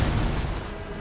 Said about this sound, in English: There's sort of explosions that happen, Ornus.